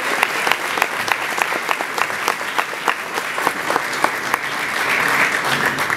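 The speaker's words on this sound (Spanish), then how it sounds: "Un aplauso para los liberales que hoy recibieron la medalla Rafael Uribe Uribe." Crowd applause at a Liberal Party political event, many hands clapping in a loud, steady burst that holds for several seconds and swells slightly near the end.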